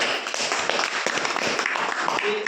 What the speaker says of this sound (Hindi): तो इनके लिए जोरदार तालियां हो